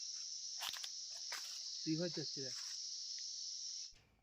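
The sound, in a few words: crickets chirping near river at night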